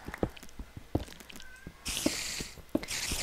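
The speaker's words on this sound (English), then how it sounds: "I just started recording the cats yelling" Faint cat yowls drift in from a distance, alongside soft scattered taps and two stretches of steady hissing noise.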